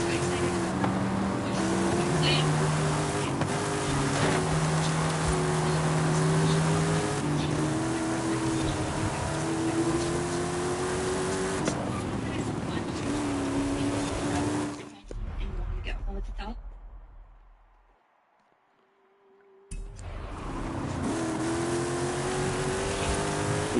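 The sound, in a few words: McLaren car engine in Forza Horizon 5 video game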